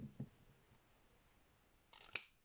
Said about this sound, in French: Ici, je vais aussi couper sur la pliure